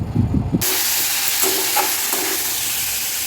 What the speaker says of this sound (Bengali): তারপরে গাজর টমেটো ক্যাপসিকাম এটা ভেজে নিচ্ছি